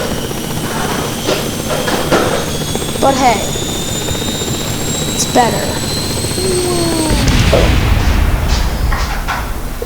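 A modded helicopter in a space-plane-building video game hums with a steady rotor and engine drone beneath someone talking, with rising whines and clatters cutting in now and then.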